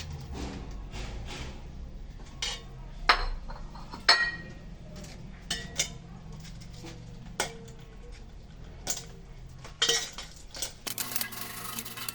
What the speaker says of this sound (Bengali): এখন খাজাগুলো আস্তে আস্তে ভিতর দিয়ে নেড়ে চেড়ে উঠিয়ে ফেলবো